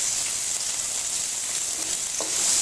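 Mustard seeds splutter in hot oil with crushed ginger frying for poori masala, producing a dense, close, bright crackling sizzle that holds steady throughout, with no voices.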